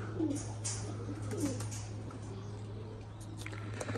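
Soft pigeon coos sound faintly a couple of times over a steady low hum and background noise.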